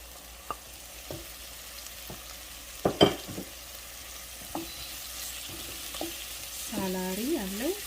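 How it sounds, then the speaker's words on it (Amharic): Celery, tomato, zucchini and bell pepper cook together in a pan for a vegan vegetable sauce. A constant soft sizzle runs under sharp clicks and scrapes of stirring, with a louder clatter near the middle. "ሳላሪ፣ ቲማቲም፣ ዚኩኒ፣ ይሄ ትልቁ ቃሪያ ወይም የፈረንጅ ቃሪያ የሚባለውን አንድ ላይ አበስለዋለሁ ማለት ነው።"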